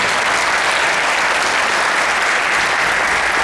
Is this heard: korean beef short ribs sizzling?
no